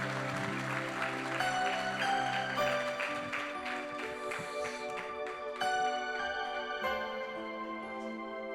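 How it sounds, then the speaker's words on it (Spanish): Loud applause fills a church service, steady clapping blended with organ-like music that carries through the whole stretch without pause. "Dale un fuerte aplauso al Señor"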